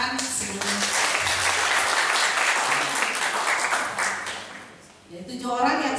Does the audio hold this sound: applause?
yes